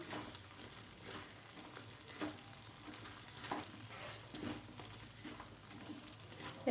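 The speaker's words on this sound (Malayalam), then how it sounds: "ഇനി ഫ്രൈ ചെയ്ത് വെച്ചിരിക്കുന്ന സോയ ആഡ് ചെയ്ത് കൊടുക്കാം. എന്നിട്ടൊന്ന് മിക്സ് ചെയ്യുക." Fried soya chunks stirred through a pan for Manchurian, giving a soft, continuous sizzle with gentle scraping pulses from the mixing.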